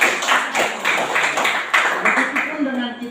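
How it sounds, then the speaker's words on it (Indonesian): Audience hand-clapping at an academic coaching session, a run of rhythmic claps in bursts at close range, with speech-like sounds mixed in near the end. "Kita berikan tepuk tangan sekali lagi."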